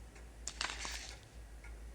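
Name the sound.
clock ticking in the video game Spirit Hunter: NG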